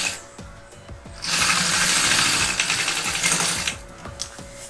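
Sewing machine running a straight safety seam along the bottom of a lunch bag: a loud, steady mechanical whir with rapid needle chatter that starts after a second of lighter clicks and runs continuously to the end.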